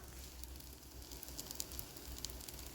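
Oil poured over a millet dosa on a hot pan gives a faint, steady sizzle with soft crackles scattered through it, heard close and alone.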